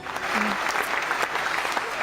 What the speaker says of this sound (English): The clapping makes me feel so good.